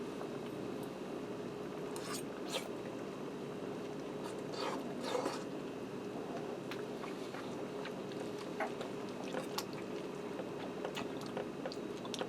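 Someone eats shrimp fettuccine Alfredo up close, with soft, wet chewing and occasional faint clinks of cutlery running steadily throughout and no talking.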